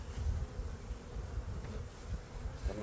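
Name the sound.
swarm of honey bees in a hive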